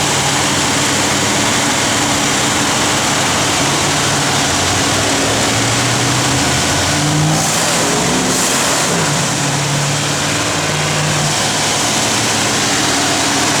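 A 1964 Oldsmobile JetStar I engine runs steadily and loudly, a continuous low rumble with a brief rise in revs partway through, with no talking.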